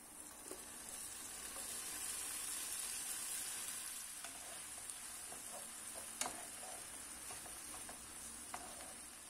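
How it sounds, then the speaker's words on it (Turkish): Soft, steady sizzling of tomato paste sautéing in a pot, with occasional light clicks and scrapes of a utensil stirring. "sürekli karıştırarak birkaç dakika boyunca tekrar kavurmaya devam edeceğim."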